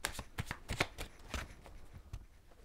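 Tarot cards being shuffled and drawn, a rapid run of soft riffling slaps and flicks close by, fairly quiet and tapering off near the end.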